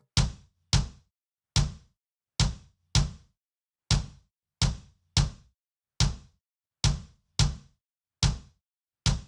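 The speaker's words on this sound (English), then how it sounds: "Now let's try playing with release settings on our compressor to shape the sound of our kick." Kick drum hits shaped with fast-attack, fast-release compression, a dozen or so punchy thumps at an even, steady pace, each striking sharply and dying away quickly, alone and close.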